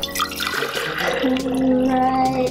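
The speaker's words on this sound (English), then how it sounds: "Pour a little bit of water so it's make it almost at the top" Water pours into a glass or bottle, filled almost to the top, a close trickling splash whose rising ringing tone climbs as the vessel fills; a voice speaks a single word partway through.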